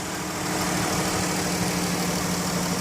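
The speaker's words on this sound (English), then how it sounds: "It idles smoothly, the engine sounds good" A 2013 Dodge Caravan SE mobility van with the 3.6 V6 idles smoothly, giving a steady close-up hum with a low rumble and no other sounds.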